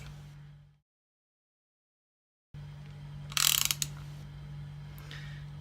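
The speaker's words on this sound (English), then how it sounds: "we're going to use the shorter Allen bolt to wind it in a bit further" An Allen bolt is wound in to press a bush, giving a brief burst of close metallic ratcheting clicks after a silent gap, over a steady low mechanical hum.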